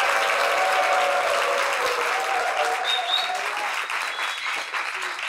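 A TV studio audience at the close of a French-language talk show claps steadily, a full, continuous round of applause that tapers slightly toward the end, with little talk over it.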